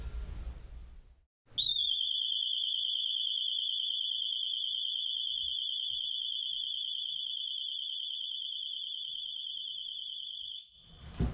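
A security alarm inside a locked house blares a continuous, piercing high-pitched shriek with a slight warble, loud and unbroken for about nine seconds before cutting off, with a brief handling noise at either end.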